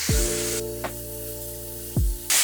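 Loud sizzling as chicken hits a hot DeLonghi CGH1012D contact grill, a sharp crackling hiss over a steady electric hum, with a couple of brief clicks and bursts.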